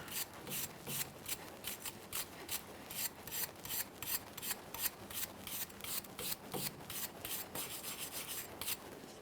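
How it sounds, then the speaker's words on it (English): A wire brush scrubs the drag link bracket on a 1994-2001 Dodge Ram 1500 in rapid, steady rasping strokes, close and fairly quiet, with no voices. "Use a wire brush. Make sure it's not rotted and weak."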